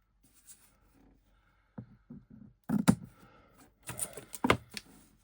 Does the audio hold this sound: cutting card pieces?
yes